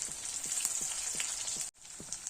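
Onion frying in a pan over a lowered gas flame for an Assamese pork with lai sak dish gives a steady close hiss and sizzle with faint crackles, briefly cutting out for a moment near the end before resuming.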